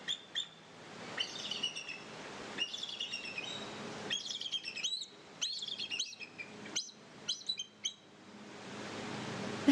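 An eagle gives high-pitched calls: a string of sharp, chirping cries in quick bursts, fairly close and clear over a faint background, with no voices.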